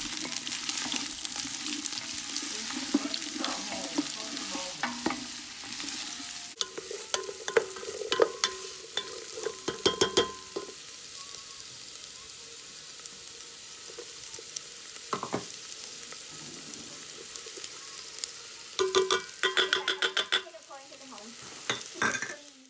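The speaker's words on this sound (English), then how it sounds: "you're gonna want to add the chopped up carrots, the chopped up onion, and then just stir that around for a little bit" Chopped carrots, onion and garlic sauté in a soup pot, a steady sizzle under repeated stirring clatter, with a brief stretch of running water midway; no speech.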